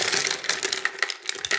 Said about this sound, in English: So first, we're gonna have little ice cubes.